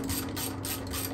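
A ratchet wrench turns on the brake caliper bolts of a 2009 Harley-Davidson Electra Glide, giving a steady, close, rapid clicking over a low mechanical hum with no talk.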